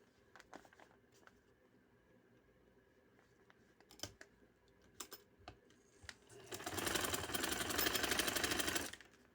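Sewing machine stitching a sleeve, starting after scattered clicks and handling noises and running steadily for a few seconds, close by.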